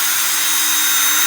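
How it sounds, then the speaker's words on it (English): A cordless drill spins a small wire brush against painted concrete with a loud, bright, continuous whirring hiss, close up and steady throughout. "cordless drill, small wire brush attachment"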